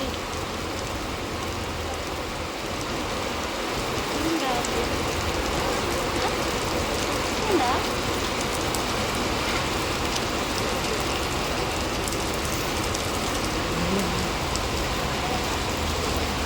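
Small hail patters down steadily through a storm as a dense, even hiss of tiny impacts lasting the whole stretch, with a few sharper ticks and no voices.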